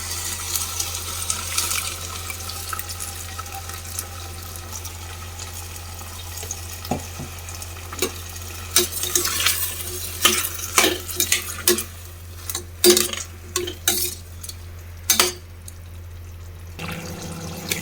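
A ground spice mixture fries in oil for a vegetable pulao, with a low sizzle under loud, irregular scraping and stirring strokes that come in quick bursts toward the end.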